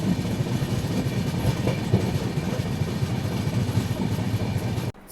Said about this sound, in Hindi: हमारी गाड़ी फ़िलहाल पहुंच चुकी है शेडोल रेलवे स्टेशन